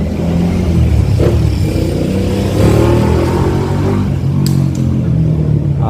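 Cars and motorcycles pass on a road beside a building project, making loud, continuous engine rumble and revving with faint clatter and no talk.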